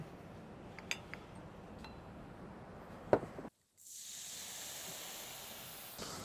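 Sugar caramelizing in a hot pan, first a low bubbling sizzle with a few metallic clinks, then after a short pause a steady, brighter hiss that continues evenly at moderate loudness.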